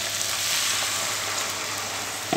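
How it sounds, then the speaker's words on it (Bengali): Okra and onion fry in a pan with a steady, close sizzle and crackle that holds evenly throughout, with a brief clink near the end and no voices. "তো আমাদের ভেন্ডিগুলো দিয়ে দিয়েছি ভাজা হোক"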